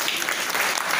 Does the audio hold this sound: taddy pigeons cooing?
no